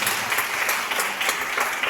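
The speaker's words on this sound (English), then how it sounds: "a round of applause to our" Sustained applause from an audience of teachers at an annual elocution competition in Bandra, steady dense clapping filling the whole moment without a break.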